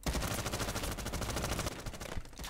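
Rapid automatic gunfire with recoil in Roblox Modern Warfare 2, loud and continuous bursts for about two seconds, then a brief lull and a few more shots.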